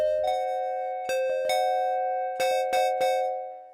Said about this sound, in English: It is a diminished chord